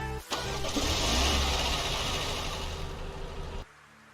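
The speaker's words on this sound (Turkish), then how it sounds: "Arabanın sesi bu şekilde." A car engine in the Roblox game A Dusty Trip starts with a brief crank, then roars into a loud, steady run for about three seconds before cutting off abruptly. There is no talking over it.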